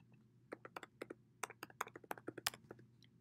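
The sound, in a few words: typing a password on a computer keyboard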